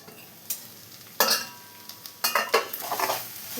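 Tomatoes frying in a pan for a soya roast, a soft sizzle under repeated spoon stirring and scraping strokes, close and fairly quiet with no talking.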